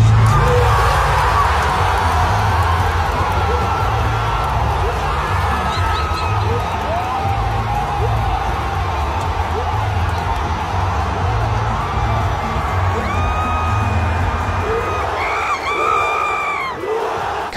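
A large wrestling arena crowd cheers Carlito's WWE return during a San Juan street fight between Bad Bunny and Damian Priest, a loud sustained roar with scattered whoops and shouts that rise near the end.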